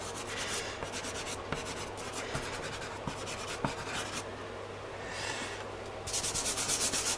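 Soft pastel rubbed and pushed into textured paper for a spring landscape: a steady dry scratchy rubbing with repeated strokes, close and fairly quiet, with a few brief louder scrapes and a denser burst of rubbing near the end.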